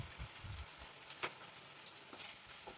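Onion paste sizzles steadily in hot oil over whole cumin and dried red chilli, a constant close crackling hiss with a few sharper pops and no talking.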